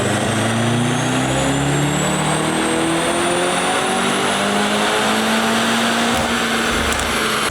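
A 2025 Mercedes-AMG C63 S revs hard on a chassis dyno in a single sustained pull, its engine note climbing steadily in pitch with a loud, continuous roar and no talking.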